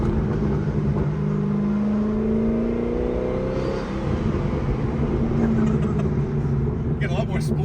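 Twin-turbo Corvette Z06 revving with turbos spooling, a loud steady engine drone with rising and falling whining tones, heard from close by with people talking.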